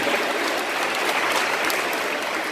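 An audience at a church youth rally applauds, a steady, even patter of many hands clapping at moderate volume throughout.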